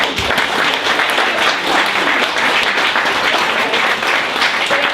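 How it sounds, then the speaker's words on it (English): During an inspirational business talk, an audience bursts into applause that stays thick and steady throughout, a close wash of many people clapping together. "Round of applause!"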